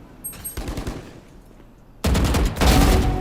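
Gunfire in Valorant, with a burst of rapid shots followed by a pause and then dense, loud automatic fire that carries on to the end.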